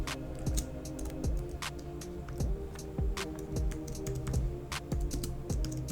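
Steady keyboard typing on a computer while a wallet name is entered for CPU mining software, a dense run of close, crisp keystrokes with regular rhythm and no talk over it.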